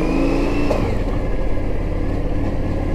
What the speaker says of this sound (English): Just take the bike on and do a big fat donut.